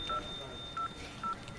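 A phone number being dialed, with three short, evenly spaced DTMF keypad tones over quiet room noise.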